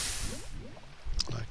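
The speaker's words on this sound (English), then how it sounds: "Pour water" Water being poured in Minecraft: short liquid splashing and dripping sounds, a couple of quick gurgles followed by a brief splash, close and moderately loud with other game noise around.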